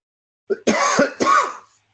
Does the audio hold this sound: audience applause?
no